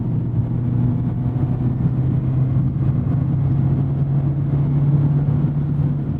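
A 2024 Mazda Miata ND3 engine revving, a sustained loud drone with a steady low hum that holds for several seconds close to the car with no talk.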